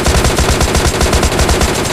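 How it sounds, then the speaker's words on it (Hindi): An MK14 rifle in PUBG Mobile Lite fires in rapid automatic succession, loud and close, with dense overlapping shots continuing throughout the short burst. "और आपको MK14 चलने की आवाज तो आ ही चुकी हूँ"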